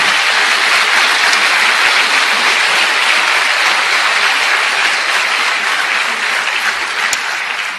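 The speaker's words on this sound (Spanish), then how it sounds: "¿Cuántos le dan un aplauso a él?" A church audience applauds after a Spanish-language sermon, with loud, continuous clapping from a large crowd holding steady throughout and tapering slightly at the end.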